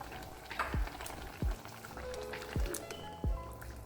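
A pot of Afang soup with palm oil bubbles gently, with a few soft, separate low plops from bursting bubbles over a quiet background hiss.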